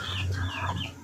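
Chickens clucking softly inside a rearing coop, a steady low murmur of several birds close by with a continuous hum beneath.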